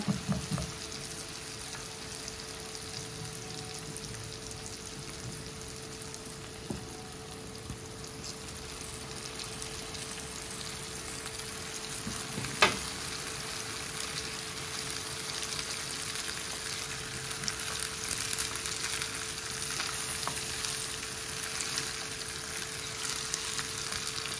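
Pasta with egg and potato frying in a pan, a steady soft sizzle with a faint hum underneath and a single light clink partway through, quiet and continuous.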